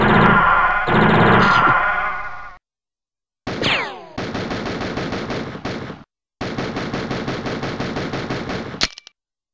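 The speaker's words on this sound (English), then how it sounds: "This is like the gun I use in Nam." Bursts of rapid automatic gunfire from a South Park video game, Cartman's Authoritah gameplay: one long volley, then after a short silence two more sustained rattling volleys, loud and close.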